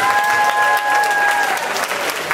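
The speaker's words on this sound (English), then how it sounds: "Round of applause." A small audience at a Nerd Nite science talk night applauds, giving a dense, steady round of clapping for about two seconds that tapers slightly near the end, with a faint tone running underneath.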